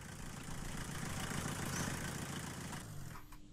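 A diesel truck engine idles steadily in The Long Drive, a low continuous rumble that holds even and close before tapering off near the end.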